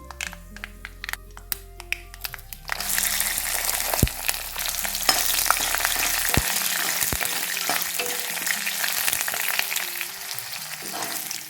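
Finely chopped garlic and ginger tossed into hot oil for tamarind chutney: a few light taps, then a loud, sustained crackling fry with occasional stirring knocks.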